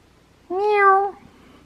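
A pet cat gives a single clear meow lasting about half a second, close and loud against a quiet room, with no talking.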